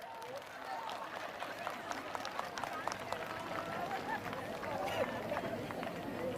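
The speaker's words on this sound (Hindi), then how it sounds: "जोरदार ताली बजाएं।" Loud, sustained clapping from a large church congregation at a Chandigarh ministry service, dense and rolling, with crowd chatter and cheering voices over it.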